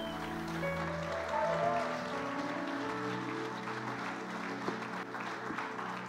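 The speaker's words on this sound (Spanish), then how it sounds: "Dale otro aplauso a Dios." Church congregation applauds during a Spanish-language sermon, a sustained wash of clapping filling the room beneath lingering tones and faint background sound.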